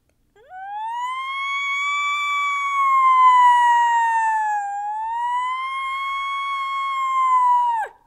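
A single siren wails alone, its pitch rising and falling smoothly in a slow sweep for several seconds, loud and clear with nothing else behind it.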